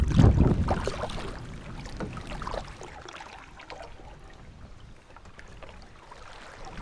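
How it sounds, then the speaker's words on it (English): A solo canoe is paddled into a headwind on open water, with soft sloshing and dripping strokes, louder at first, then fading to a quiet watery wash. "We've been paddling into a headwind basically the whole time."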